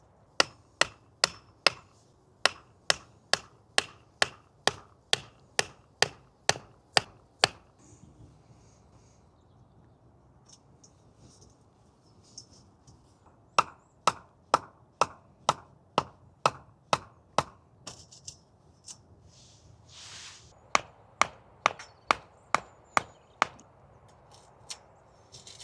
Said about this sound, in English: before we knock the foundation tubes in